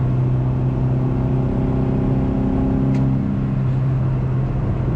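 Restored classic Mini accelerating on the road, heard as a steady droning engine hum with a slowly rising pitch and a shift partway through, constant and fairly loud with no talking.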